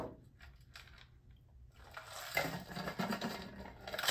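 Frothy whiskey sour made with banana-flavored Howler Head whiskey pours through a shaker's built-in strainer, a soft wet fizzing and splashing that swells midway and keeps running, close by, with no talking.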